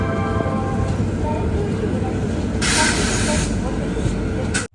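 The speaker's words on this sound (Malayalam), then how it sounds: "8:58 ട്രെയിൻ ഇതാ രാജമുണ്ട്രി റെയിൽവേ സ്റ്റേഷനിലേക്ക് എത്തിക്കൊണ്ടിരിക്കുകയാണ്." The Vivek Express train rolling into Rajahmundry railway station, heard from on board as a steady loud rumble of wheels on rail with a burst of hissing air midway, cut off abruptly at the end.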